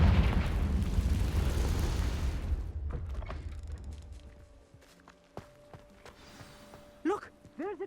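A fiery Confringo blast spell in the video game Hogwarts Legacy: a loud, rumbling burst dominates the opening seconds and then fades, followed by quieter, scattered in-game effects and a few sharp swooshes near the end.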